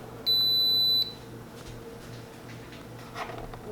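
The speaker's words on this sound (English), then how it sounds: "It beeped." An induction cooker in a kitchen gives one loud, steady electronic beep lasting under a second, followed by quiet room noise and faint clatter.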